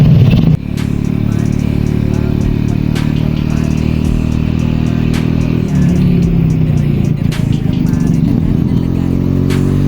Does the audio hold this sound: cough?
no